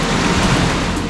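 Rough surf at Seven Mile Beach, Grand Cayman, crashes in a steady, loud broadband roar of breaking waves and churning water, filling the whole short stretch without pause.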